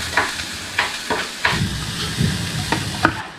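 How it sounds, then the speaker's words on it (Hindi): Onions sizzle in a hot pan for paneer bhurji, a steady frying hiss punctuated by about six sharp stirring scrapes at irregular intervals, close by and without speech. "अब हम इसमें डाल रहे हैं प्याज"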